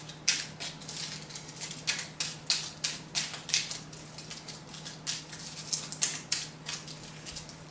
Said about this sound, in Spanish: No me quedan cartas, así que vamos a barajar.